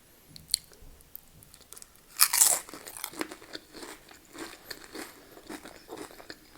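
A loud, sharp crunch comes from biting into a loaded nacho, followed by a run of quieter, close-up chewing crunches.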